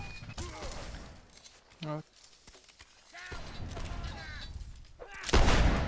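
Muskets crack in a rippling line-battle volley in the Whigs and Tories video game, with scattered shots throughout and a loud, close burst of fire at the end, mixed with voices and game sounds.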